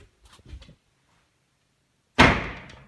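A wooden door on a hidden closet, newly hung on spacers so it clears the floor, swings shut with one loud close, near and sharp, after a few faint shuffling knocks and a quiet pause.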